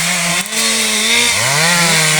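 A chainsaw cuts wood in a forest during illegal logging, running loud and close with a steady high whine whose pitch dips and then climbs again as it bites into the wood.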